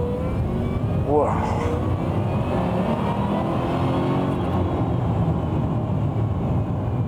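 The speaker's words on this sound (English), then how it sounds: "boy, does this car take off, even with a mere 550 brake horsepower" An Aston Martin V8 Vantage pulls away hard, its engine roaring as it rises in pitch. The noise is steady and fairly loud, with a voice exclaiming briefly early on.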